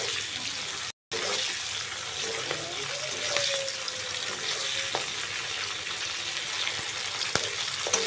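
Paneer pieces fry in a pan for a steady stretch, a close, even sizzle with occasional clicks of a spoon stirring, briefly cut by a moment of silence near the start.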